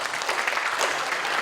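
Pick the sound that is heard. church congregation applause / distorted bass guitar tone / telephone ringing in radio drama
church congregation applause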